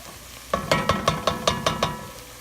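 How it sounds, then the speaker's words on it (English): Butter sizzles in a pan with cooked-down vegetables for jambalaya, heard as a soft hiss under evenly spaced stirring or scraping strokes, about eight in a steady rhythm. "I'm going to actually add a couple tablespoons of butter."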